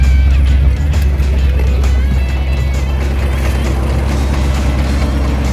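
Steady low rumble of a car driving, with a rhythmic knocking and rattling from a loose right rear wheel running underneath, stopping under braking.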